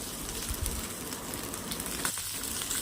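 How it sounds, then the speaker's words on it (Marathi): Green chilies roast in a few spoonfuls of oil in a pan for a tomato chili thecha, giving a steady, close sizzle and crackle with small pops throughout the short stretch. "त्यानंतर ह्यामध्ये आपण दोन ते तीन चमचे तेल सोडायचं आहे आणि मिरची छान खरपूस दोन्हीही बाजूंनी खमंग अशी भाजून घ्यायची"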